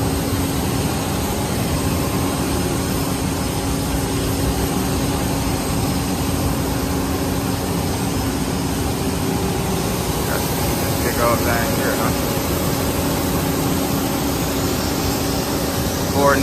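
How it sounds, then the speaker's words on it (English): Airplanes taking off at an airport, a loud continuous jet engine roar with steady tonal hum filling the whole stretch, heard from nearby inside or beside the terminal with faint background voices. "Planes taking off."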